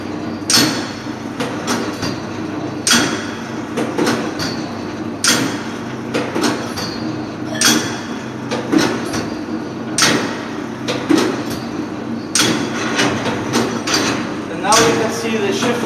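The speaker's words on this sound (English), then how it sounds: "Now we can see the shift of gear of the hammer, where it is compacting inside, and then it is compacting outside of the mold." An automatic soil compactor drives its hammer into soil held in a mold, giving repeated loud, sharp thuds at a steady mechanical rhythm with a running motor underneath and a person talking over it.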